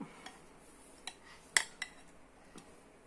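A spoon stirs yogurt into lemon muffin batter in a bowl, giving a few faint, scattered clinks and scrapes with quiet pauses between them.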